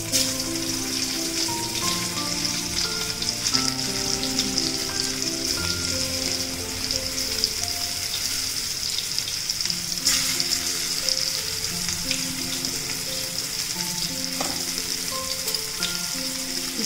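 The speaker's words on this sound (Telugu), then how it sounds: "ఇప్పుడు నూనె కాగింది, నేను ఈ కాకరకాయల్ని ఇందులో చేసేస్తున్నాను" Spiny gourds fry in hot oil with a dense, even crackling sizzle that runs steadily throughout. Occasional sharper pops and the clink of stirring rise above it, close and with no talk.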